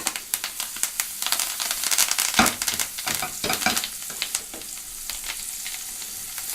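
Sea scallops sear in a hot pan with butter and thyme, giving a steady, close sizzle and crackle with sharp spitting bursts and occasional stirring or swishing. No one talks.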